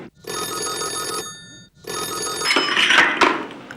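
An old-style telephone rings loudly and close by in two long electronic bursts separated by a short pause, with a rustling clatter near the end of the second ring.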